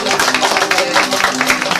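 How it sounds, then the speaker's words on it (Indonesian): Brief burst of audience applause for a performing troupe at a Sundanese traditional arts show, dense and steady, mixed with crowd noise and voices. "Tepuk tangan buat ieu."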